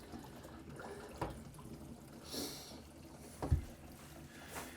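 Water drains from a filled bathroom sink at a newly installed vanity, faint and close, with soft trickling and a few brief gurgles and splashes.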